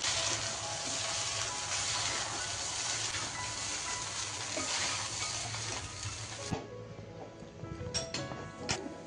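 Poha tossed and fried in a spiced masala, with steady, close sizzling and stirring scrapes throughout, then a few sharper clinks of the spoon against the pan near the end.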